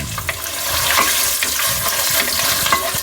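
Spices for tempering and dried red chillies fry in hot oil for lemon pulihora, giving a steady, close crackle and sizzle with scattered sharp pops and no talking.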